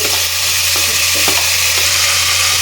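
Chopped onions frying in a pan until golden brown, a loud continuous sizzle with a few soft stirring scrapes from a spoon, no voices.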